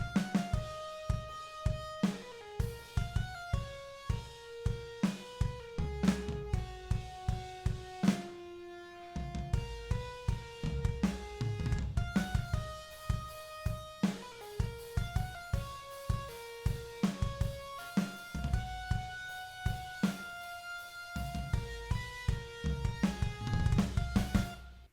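A primary synth lead carries a melody over slow, epic halftime drums in a heavy metalcore track, with steady rhythmic hits and thick low end throughout, loud and without voices.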